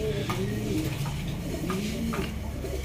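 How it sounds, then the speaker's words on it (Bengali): Lahori Sirazi pigeons in Danish colouring coo steadily at a pigeon farm, a low, continuous rolling murmur close by with several birds overlapping throughout. "আরেক পেয়ার কবুতর দেখতে পারতেছেন ডান কালার লাহোরি সিরাজি"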